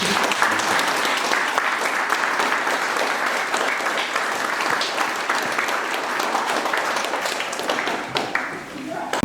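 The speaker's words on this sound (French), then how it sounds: "Vous pouvez tous applaudir maintenant." A church congregation claps at a baptism service, a close, continuous burst of many hands that stays steady throughout and thins slightly near the end.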